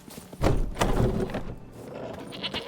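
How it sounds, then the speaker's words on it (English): A goat bleats twice in short, fairly close calls in The Witcher 3 game, followed by faint ambient game sounds. "I hear a goat."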